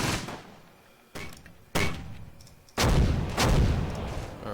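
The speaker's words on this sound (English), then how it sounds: "Those mortars are doing some work now." Mortar and gunfire in the WWII strategy game Close Combat: Gateway to Caen: four sharp booming blasts, each followed by a rumbling decay, the last two heavier and closer together.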